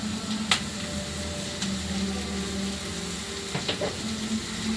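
Crushed ginger and garlic hit a hot pan for egg bhurji, giving a steady, even sizzle with a few sharp clicks and stirring scrapes over a low kitchen hum.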